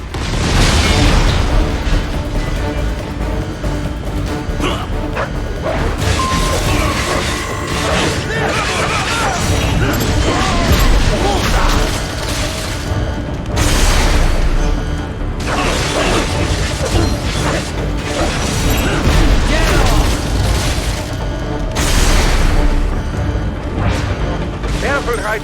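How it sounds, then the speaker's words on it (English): Rocket fire and explosions from Metal Gear Rising: Revengeance, with repeated loud blasts, crashes and mechanical clatter over a dense game score, and voices speaking throughout. "Firing RPG!"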